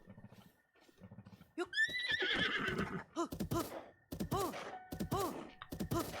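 A horse in The Legend of Zelda: Breath of the Wild gives a loud, close whinny followed by a series of snorting neighs and stamping sounds, with soft hoof clops before it. No voices are heard.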